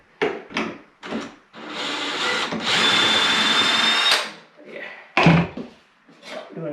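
A power drill drives screws while a hardwood floor is being installed, giving short bursts and then one sustained whirring run of several seconds, with brief speech between.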